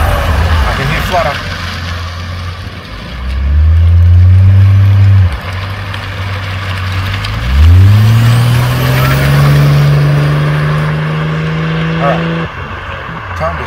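Turbo flutter and engine note from a Holden VL Turbo Commodore during a lap around a cone-marked course, heard from inside the car: the engine surges, rising and falling twice with a sustained pull, and a voice talks over it.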